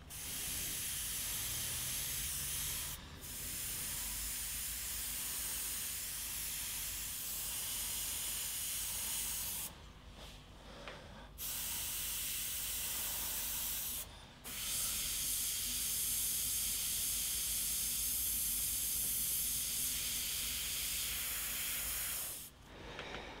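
An airbrush sprays Trident airbrush paint to lay down rust effects on a car wreck, a close, loud, continuous hiss that runs long with a few brief stops between passes, and no voices.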